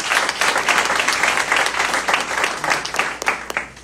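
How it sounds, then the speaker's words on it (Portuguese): A church congregation applauds for Jesus, loud dense clapping that swells and then thins toward the end, with a few sharper individual claps and some voices mixed in. "Dê um aplauso ao Senhor Jesus"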